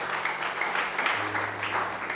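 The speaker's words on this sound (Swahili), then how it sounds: "Leta makofi mazuri kwa Yesu Kristo." A church congregation claps together during a sermon, a dense, continuous wash of applause that stays fairly steady for a couple of seconds.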